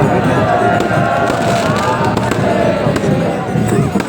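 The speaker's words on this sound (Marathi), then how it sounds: "फटाक्याची आतिषबाजी काढली" Dense crackling and popping of fireworks at a night religious procession in Maharashtra, mixed with a crowd's noisy chatter, continuous and fairly loud throughout.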